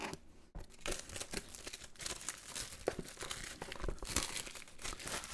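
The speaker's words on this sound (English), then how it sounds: "we're gonna go ahead and unbox the G Pro wireless" Crinkling and tearing of packaging while a Logitech G Pro Wireless gaming mouse is unboxed, a close, busy stream of crackly plastic and cardboard rustles with sharp snaps, no talking.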